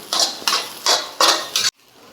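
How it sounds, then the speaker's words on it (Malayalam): A spoon scrapes through egg masala with coriander leaves in a metal pan, giving five bright, evenly spaced scraping strokes close to the mic before the sound cuts off abruptly. "ഇനി ഇതെല്ലാം കൂടി നന്നായിട്ടൊന്ന് മിക്സാക്കി എടുക്കാം."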